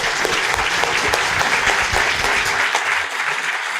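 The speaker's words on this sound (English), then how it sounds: "another round of applause" An audience at a health patient experience conference gives a sustained, dense round of applause, loud and close, tapering slightly toward the end.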